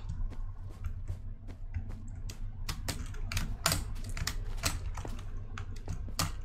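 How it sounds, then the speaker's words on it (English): Rapid, uneven typing on a computer keyboard, with close, crisp clacks and occasional heavier thumps like a space bar, continuing steadily without speech over a low background hum. "I do not know how to set a microphone filter so that you do not hear my keyboard noises when I am doing parkour."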